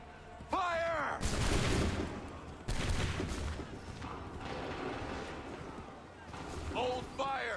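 Musket volley fire in Assassin's Creed III Remastered: two loud, broad bursts of massed gunfire crack out close together, with rumbling battle noise and shouted voices around them.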